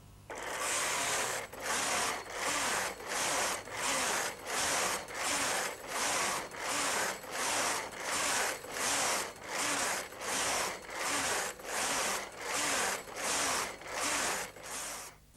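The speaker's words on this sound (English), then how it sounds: "That means the machine's ready to begin knitting on row 1 of our stitch pattern." Brother Electroknit 950i knitting machine carriage sweeping back and forth across the needle bed, about fifteen even whooshing, clattering passes in a steady rhythm roughly one per second, close and clear with no voices.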